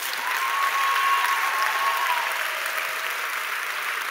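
Steady sustained applause from a large audience at a university graduation ceremony in an AgriSciences faculty hall, a dense even wash of clapping with a faint high tone running through it.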